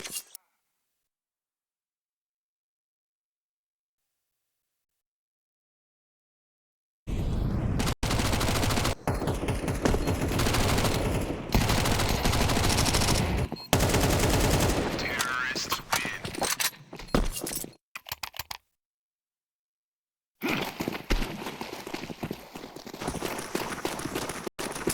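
Rapid Mac-10 gunfire bursts and other weapon shots from a Counter-Strike match, loud and close in dense clusters with brief silent gaps, as commentators talk over the action.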